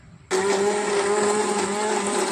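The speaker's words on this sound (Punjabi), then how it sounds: "ਹੁਣ ਇਹਨੂੰ ਆਪਾਂ ਹੈਂਡੀ ਨਾਲ ਗ੍ਰੈਂਡ ਕਰਾਂਗੇ" A handheld immersion blender starts abruptly and whirs loudly and steadily as it purees fried onion gravy paste, a constant motor whine close by without speech.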